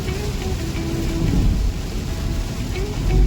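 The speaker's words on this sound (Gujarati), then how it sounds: "જબરજસ્ત વરસાદ ચાલુ છે।" Heavy rain pours down in a steady, dense roar, with a low rumbling undertone throughout.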